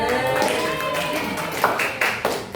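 Pupils in a third-grade classroom clap in short rhythmic bursts, and the clapping grows more distinct toward the end beneath the teacher's talking.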